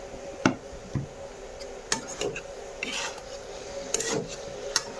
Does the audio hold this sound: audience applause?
no